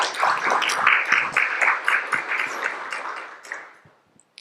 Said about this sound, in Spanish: Yo quiero darles un aplauso a todos los compañeros Fulbright Alumni